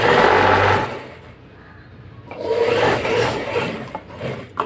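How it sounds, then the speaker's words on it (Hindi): An electric sewing machine stitches the edge of blouse fabric in two loud whirring runs separated by a brief quiet pause. "अब इसकी किनारे पे सिलाई लगा देंगे।"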